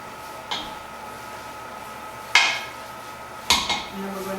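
Cheesy pasta with parsley being mixed in a pot, giving a few sharp metallic knocks and scrapes of a utensil against the pot at irregular intervals over a low steady background.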